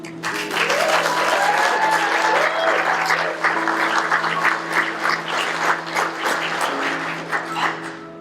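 An audience applauding at a talk by a retired businesswoman and speaker, dense sustained clapping with a few whistles and cheers rising over it, loud and close, then thinning slightly toward the end.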